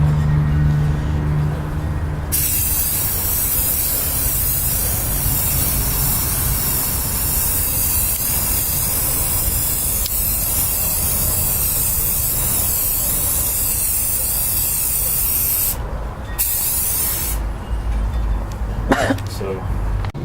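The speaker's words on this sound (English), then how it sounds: "Spray painting the first sign for the sign box." A spray paint can hisses in long continuous bursts while painting a sign, close and loud, with brief pauses between passes.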